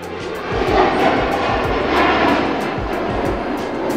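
A MiG-35 fighter jet roars past overhead, a loud, broad engine rush that swells quickly and then holds steady for a few seconds.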